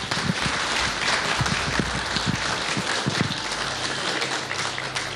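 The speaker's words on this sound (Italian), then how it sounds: "condotto dalla professoressa Nella Manca, alla quale dedichiamo un grande applauso" Audience applause at a regional culinary trophy event with saffron, a steady dense patter of clapping filling the room for several seconds without voices.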